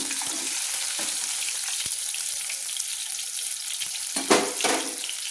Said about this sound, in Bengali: বেগুনগুলো ভেজে আমি তুলে নিয়েছি একটা ছান্তা দিয়ে।